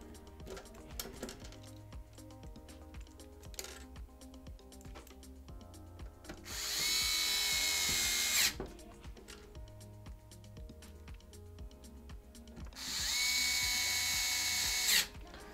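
A power driver runs in two bursts, each about two seconds, driving the back cover screws into an Xbox Series X console, loud and close against a quiet workbench background with faint handling clicks between.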